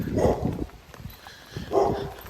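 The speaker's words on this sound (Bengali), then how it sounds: "ওই যে দেখতে পাইতেছেন একটা কুকুর কিন্তু ঘেউ ঘেউ আছে বৃষ্টির মধ্যে ঠান্ডার মধ্যে বাইরে বের হয়েছে" A dog barks outdoors in heavy rain on a street in Italy, two bursts a short way off, separated by a pause, with steady rain noise underneath.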